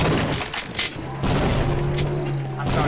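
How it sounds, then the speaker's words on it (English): Grenades bursting during a boss fight in the co-op shooter Sven Co-op: several loud, heavy blasts with crackling debris, one after another over a few seconds, with a steady hum underneath. "I'm throwing grenades at him"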